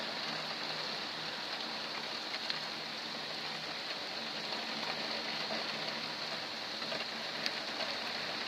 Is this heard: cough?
no